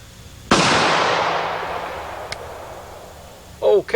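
A single loud gunshot cracks out from a shooting bench outdoors, its sharp report decaying slowly into a long echo, followed by a short burst of speech.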